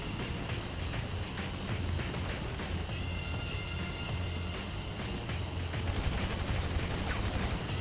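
Gunfire in Grand Theft Auto V Online, rapid scattered shots crackling as a dense, fairly quiet volley running throughout.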